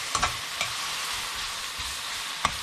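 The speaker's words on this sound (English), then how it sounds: "And just stir it like this" A spoon stirring sweet tomato chutney with South Indian flavors in a pan, the mixture sizzling steadily while a few soft scrapes and taps of the utensil stand out near the start and again near the end.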